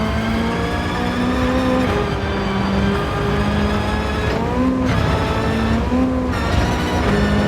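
A rally car engine drones loud and steady on a dirt track, its revs rising and falling through gear changes behind a Subaru.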